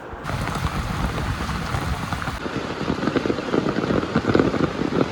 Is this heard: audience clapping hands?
no